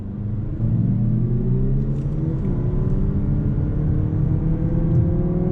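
A 2020 Lexus UX250h F Sport hybrid accelerates from a standstill, its engine and motor drone rising steadily in pitch, heard loud and continuous from inside the cabin.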